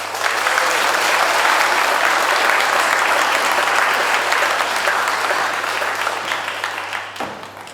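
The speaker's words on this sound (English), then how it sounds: "please give a big round of applause for Millie." An audience at a school poetry reading finals claps loudly and continuously, a dense sustained applause that slowly fades and cuts off near the end.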